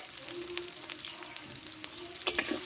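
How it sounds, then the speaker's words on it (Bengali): Potatoes stir-fried with turmeric and salt in a pan for a jackfruit curry give a steady soft sizzle, with scattered scraping clicks from stirring and a sharper clatter near the end; no talk. "দিয়ে আলুটা ভালো করে কষে নেব"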